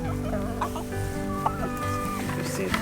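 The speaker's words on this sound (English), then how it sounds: "Nice chicken." Farm chickens clucking near the microphone: a busy run of short, throaty clucks and a few longer drawn-out calls overlapping at an uneven rhythm, with low barnyard noise behind.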